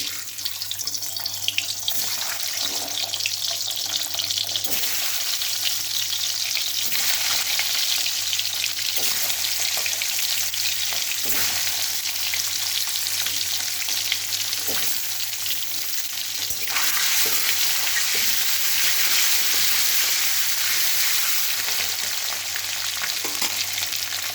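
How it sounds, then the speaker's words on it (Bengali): Steady hot-oil sizzle of duck eggs frying in a pan, continuous and close, with occasional clinks and scrapes from stirring. "ডিমটা আমি হালকা করে ভেজে উঠিয়ে নেব"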